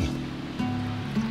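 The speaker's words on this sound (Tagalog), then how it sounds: "And then, lalagyan siya ng tubig." Water is poured into a small-to-medium pressure cooker holding a pork leg. It makes a steady, close, rushing gush throughout the brief moment.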